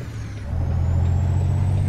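A truck's engine (Jake) brake in American Truck Simulator, a loud, deep, steady rumbling drone that kicks up in strength partway through and holds, close and alone.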